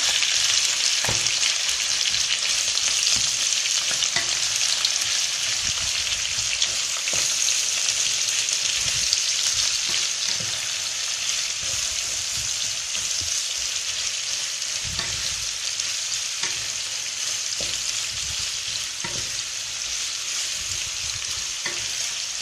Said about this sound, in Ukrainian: обжарюємо морковку і цибулю.